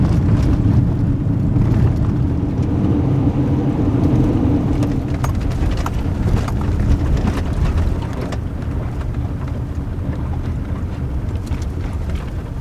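An SUV drives toward a national park, its steady low road and engine rumble filling the cab with a broad, continuous roar that eases a little partway through, with no talking.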